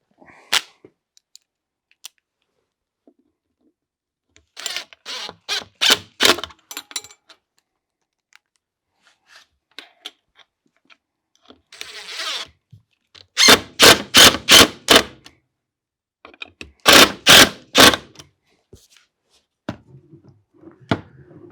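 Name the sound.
installing a handle on a drawer front with screws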